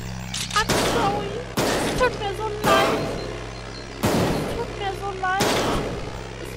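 Rifle shots in the Moorhuhn 2 shooting game, five loud evenly spaced blasts each followed by a short decaying rumble, with someone talking and exclaiming between them.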